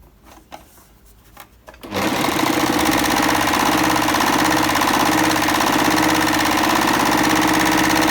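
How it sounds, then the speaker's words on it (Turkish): A Bernette b44 overlock machine runs a four-thread stitch on fabric, starting after about two seconds of quiet handling noise into a loud, steady, fast mechanical whir that carries on without a break. "Dört ip dikişli overlock."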